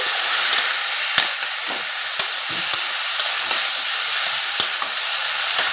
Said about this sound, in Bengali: আবারও একটু নাড়াচাড়া করে নিচ্ছি